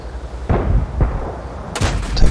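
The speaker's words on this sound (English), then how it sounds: "Take a shot at him but miss him." Tank cannon shots in the World of Tanks video game boom in quick succession, three heavy blasts with rumbling tails, the last one sharper and louder.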